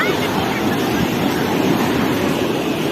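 Sea surf at Cox's Bazar beach makes a steady, loud broadband roar, with wind buffeting the microphone and no speech.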